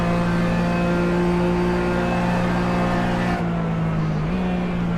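A RUF race car engine in the iRacing simulator at Daytona holds a steady high drone, then drops in pitch as a clutch-assisted upshift smooths the revs before climbing again, loud and close with no talk over it.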